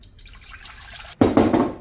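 Water poured into a pot while making horchata: faint dripping at first, then a sudden loud gush of splashing liquid that carries on until the end.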